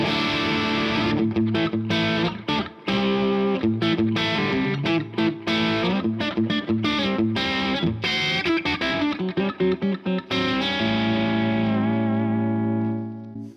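Electric guitar played through a Wampler Mini Plexi Drive pedal into a Fender-style clean 1x12 tube amp, giving a driven, gritty run of chords and notes that ends on a sustained ringing chord.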